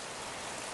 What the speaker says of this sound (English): I love to listen to the sound of the rain on our metal roof.